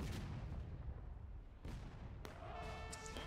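Rifle fire in War of Rights during a Civil War battle at Piper Farm, a distant rumbling volley with scattered cracks over steady battlefield noise, quiet overall.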